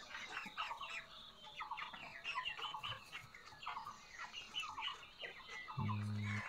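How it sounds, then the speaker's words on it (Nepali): Large broiler chickens cluck steadily in a coop, many overlapping calls close by in a busy, continuous chorus, with a brief low hum near the end. "यो चाहिँ ठुलो साइजको कुखुराहरू हो।"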